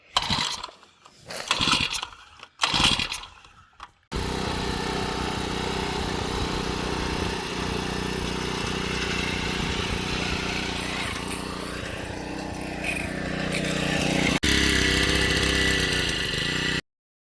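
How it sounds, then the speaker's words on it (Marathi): A farm water pump engine runs steadily and loudly for most of the clip, after a few brief knocks and bumps at the start. "मग काय आता पंप चालू व्हायची ही मोठी कसरत आहे"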